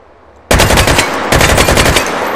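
Automatic gunfire from a weapon in the VR game H3VR rips out suddenly after a quiet start as a loud, rapid, continuous burst, with a brief dip partway before the firing carries on.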